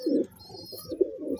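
Madrasi pigeons coo in a cage in soft, throaty bursts, several low rolling calls close by, with a faint high chirp in the background.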